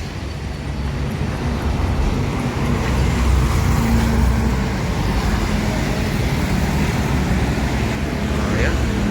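Busy road traffic heard from inside a moving bus, a steady loud rumble of engine and road noise with passing vehicles blending into a constant wash.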